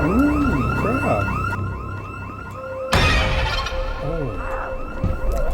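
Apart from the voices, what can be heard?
alarm sounding in video game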